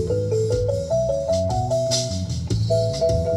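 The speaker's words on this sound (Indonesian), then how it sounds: "Berikutnya ini suara kenong ya." Kenong gong tones played back through a speaker in a stereo channel test, a melodic run of resonant pitched strikes over sustained low bass, loud and continuous with no talking.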